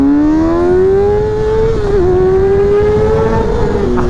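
A 2020 Kawasaki ZX6R sport motorcycle engine revs steadily at high pitch, a loud sustained whine that holds, dips briefly near the middle, then climbs again, close and alone without talk.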